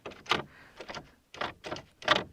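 Several short mechanical clicks and rattles of a door handle on a reclaimed door being turned and released, close by, in a quick uneven sequence.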